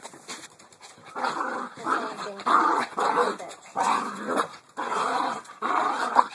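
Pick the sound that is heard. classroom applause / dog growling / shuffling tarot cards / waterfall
dog growling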